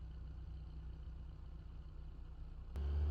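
A hybrid car in the BeamNG driving game gives a low, steady hum that jumps abruptly louder and deeper near the end as the combustion engine kicks in.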